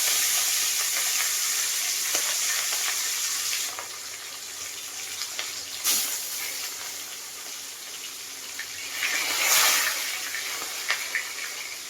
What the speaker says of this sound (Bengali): এবার আমি একটু মাছটা ভেজে নেব মাছের নুন হলুদ মাখিয়ে